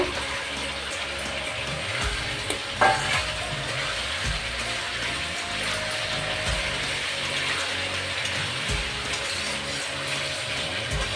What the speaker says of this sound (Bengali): এখন আমি বাজা পটল দিয়েও কষিয়ে নেব